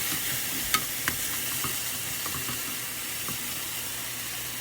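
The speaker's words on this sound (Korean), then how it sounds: "물 아까 전에 받아놨던 거 한두 스푼씩 이렇게 넣어가면서 볶아주세요." Shishito peppers and mushrooms are stir-fried in a pan with spoonfuls of water added, giving a close, steady sizzle and a few sharp utensil clicks and scrapes near the start, with no talking.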